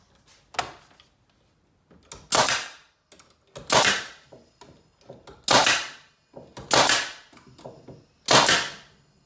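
A nail gun drives nails into the wooden side pieces of a bee hive, firing six sharp, loud shots at irregular intervals, each followed by a brief rattle and clunk of the tool, with quiet pauses between.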